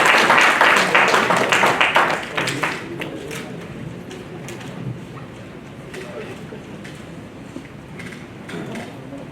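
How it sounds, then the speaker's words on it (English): An audience at a conference on technical analysis in markets breaks into loud applause for a few seconds, which then fades into a quieter room murmur. "A big round of applause for Joel."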